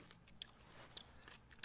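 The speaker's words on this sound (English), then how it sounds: "I'm just munching on these cough drops." Cough drops being munched close to the microphone, a few faint crisp crunches scattered across a quiet moment.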